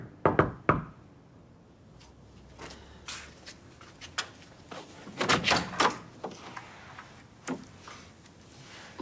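Several sharp knocks on a door downstairs in a domestic drama scene, coming in scattered clusters of separate raps over a quiet room with no talk.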